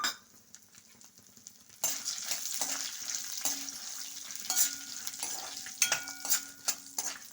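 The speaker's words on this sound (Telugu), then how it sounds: "ఇప్పుడు వేగాయండి ఎండుమిరపకాయలు వేస్తున్నాను ఒక ఎనిమిది ఎండుమిరపకాయలు తీసుకున్నానండి" Eight dried red chilies drop into hot oil for a tomato-coriander chutney. A quiet start gives way to a loud, steady crackling sizzle, with scattered scrapes and clinks of a spoon stirring against the pan, and no talking.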